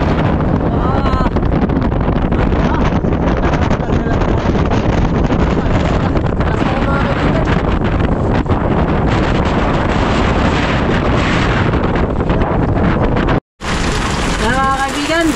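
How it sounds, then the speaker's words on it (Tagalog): Strong wind roars across the microphone at sea amid waves, with heavy, continuous buffeting throughout, briefly cutting out near the end before the rumble returns. "lakas ng hangin"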